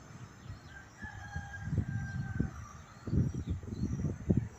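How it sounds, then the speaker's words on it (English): A rooster crows on a Guyanese morning, its drawn-out calls moderately distant and faint against a low rumble of passing road traffic and soft background birdsong. "and the cock is crowing"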